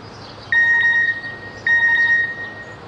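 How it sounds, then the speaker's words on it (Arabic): A mobile phone chimes for an incoming text message: two clear, bright electronic alert tones about a second apart, close and loud, with no talk over them. "بعتت لي مسج"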